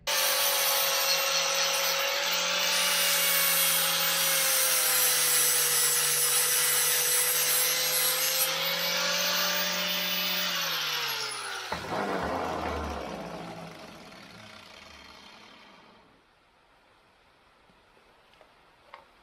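Flap disc grinder working a metal part on a Chrysler Crossfire rally car, a loud, steady high whine held for about eleven seconds, then spinning down and fading into quiet with a few faint knocks.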